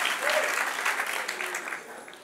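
Applause from a church congregation during a Spanish-language worship service, a fairly steady spread of clapping with some voices mixed in, moderately loud throughout and easing slightly toward the end.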